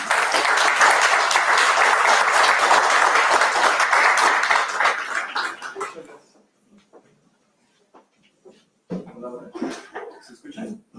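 An audience at a lecture gives a strong round of applause for the arriving speaker, dense clapping for about five seconds that fades out, followed by quiet and a few scattered noises and voices.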